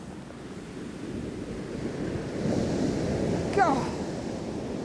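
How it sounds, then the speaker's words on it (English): Large ocean waves crash and roar onto the shore in a continuous heavy wash, swelling louder midway, with wind buffeting the microphone and a faint brief cry above the surf. "The size of those waves!"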